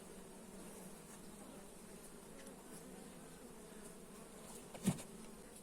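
Honey bees buzz steadily inside a beehive, a dense, even drone that holds throughout with one brief louder knock near the end.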